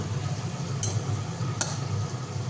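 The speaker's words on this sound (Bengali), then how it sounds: "বাঁধাকপি এখানে আলু ভেজে নিচ্ছি এখন" New potatoes sizzle steadily in hot oil in a pan, a cabbage curry in the making, with a low continuous fry and two faint clinks of stirring.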